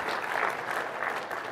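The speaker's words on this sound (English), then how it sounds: "Obviously, the applause indicates you see the value." Audience applause fills a hall at a Build 2015 developer conference talk on .NET debugging in Visual Studio, a steady, fairly loud wash of clapping throughout with no speech over it.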